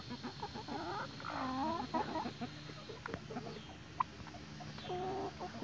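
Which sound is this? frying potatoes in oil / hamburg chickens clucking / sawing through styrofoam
hamburg chickens clucking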